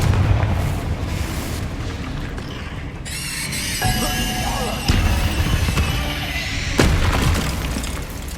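Spell explosions boom and crackle in the video game Hogwarts Legacy, with several deep blasts followed by bright sparkling crackle that rings out over a dense rumbling game soundscape.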